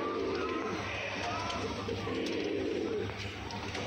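Soft, repeated cooing of a cross-bred pigeon close by, low rumbling calls rising and falling under a steady background hiss.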